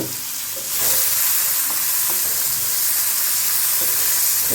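Grated coconut fries in a pan with a loud, steady sizzle that swells after the first second, broken by occasional clicks and scrapes from stirring.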